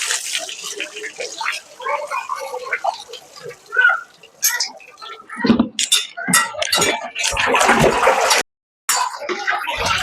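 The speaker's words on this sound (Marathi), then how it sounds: "आपण ते काही साफ करायला जरूर राहते. त्यामुळे चोखात गहू या आपला गहू आपण येतस ना एक पाणीवर त्याचे धुई काढू चांगला" Wheat grains are washed by hand in water in a home kitchen, with splashing, swishing and trickling in uneven bursts, close and fairly loud, while someone talks over much of it.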